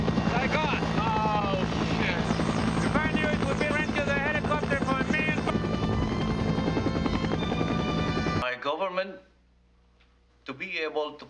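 A military rescue helicopter in a 1984 action film roars loudly and steadily with dense rotor and engine noise, then cuts out abruptly, leaving brief quiet before noise resumes.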